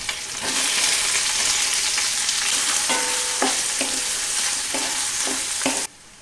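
Shallots, garlic, green chili and curry leaves fry with mustard seeds in hot oil, a loud, steady sizzle broken by repeated scrapes of stirring, the cooking noise cutting off abruptly at the end.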